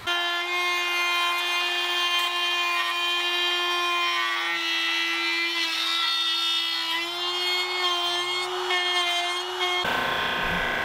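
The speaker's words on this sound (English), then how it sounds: "my router bit will go deep enough to route this to the final depth" Router cutting pallet wood down to final depth for a guitar body, a steady loud high-pitched whine with a constant tone that cuts off abruptly near the end.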